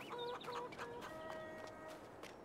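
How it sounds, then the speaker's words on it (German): Chickens cluck on a farm map in a farming video game, a quick run of short clucks up close and faint, with no talk. "Hier sind die Hühner, das ist klar."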